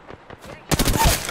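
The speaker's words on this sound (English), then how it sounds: "Opening fire." Automatic gunfire in the Apex Legends battle royale shooter: a few faint pops at first, then a loud, dense burst of rapid shots filling the second half.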